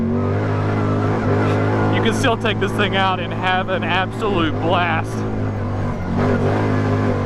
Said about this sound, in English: This engine is crazy powerful.